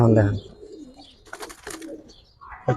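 Giribaz and colored pigeons cooing close by, with a few soft coos and chirpy calls in short bursts over a busy background.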